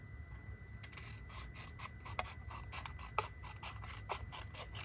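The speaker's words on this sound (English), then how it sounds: "And then I'm going to go ahead and I am going to trim that." Paper is trimmed for a scrapbook page with a rapid series of faint, close crisp cutting snips and clicks in a quiet room, with no speech.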